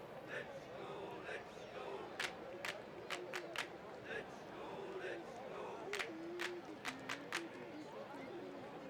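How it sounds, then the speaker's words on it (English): Crowd cheering in the baseball video game OOTP, a steady synthetic stadium roar of a hometown crowd with several brief sharper bursts standing out above the continuous background. "hometown crowd cheering on the visiting team"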